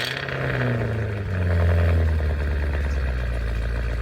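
A Cadillac Escalade V engine in the Driving Empire video game fires up with a deep, rumbling start, then settles into a steady, loud low idle that swells briefly before holding a throaty drone.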